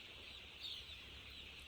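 Chicks in a poultry shed on a farm give faint, steady high cheeping and clucking throughout, with a brief louder swell midway over a low background hum.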